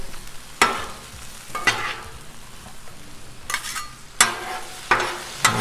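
Taco skillet mix with tomatoes stirred on a Blackstone griddle, a spatula scraping in several sharp strokes spaced apart over a soft constant sizzle, close and alone.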